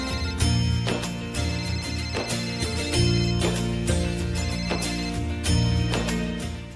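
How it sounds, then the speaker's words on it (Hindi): A musical phone ringtone plays loudly and continuously during a call to a sir, a repeating melodic pattern with strong bass beats, no voices over it. "Jairam sir phone करछन"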